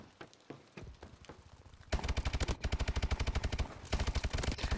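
Rapid automatic gunfire in the shooter Call of Duty: Advanced Warfare, a few scattered shots followed by long, loud, evenly spaced bursts that pause briefly and resume, with almost no talk.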